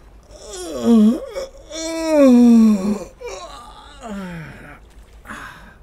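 A human voice imitates a sleepy yawn and stretch with drawn-out, groaning vocal swells. Two long, loud rises come first, followed by softer, sighing tails, all close to the microphone.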